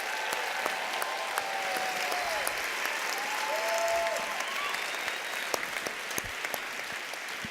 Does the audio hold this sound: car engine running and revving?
no